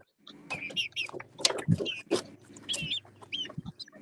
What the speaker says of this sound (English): I've never seen a white rooster before.